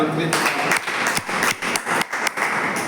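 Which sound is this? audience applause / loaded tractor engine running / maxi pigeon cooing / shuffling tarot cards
audience applause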